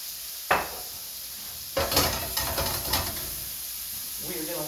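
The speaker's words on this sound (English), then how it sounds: "We're going to get this onion cooked up first" Onion cooks in a pan for a Lebanese dinner, giving a soft, low sizzle broken by a few nearby clanks and scrapes of utensils against cookware.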